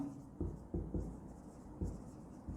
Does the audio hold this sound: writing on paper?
yes